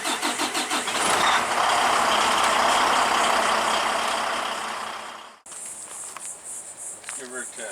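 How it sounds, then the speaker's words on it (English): A heavy-duty diesel truck engine whose fuel is contaminated with water runs loudly at close range for several seconds, then cuts out abruptly, leaving quieter background noise. "So Dave's going to go ahead and idle for about 10 minutes and see what happens."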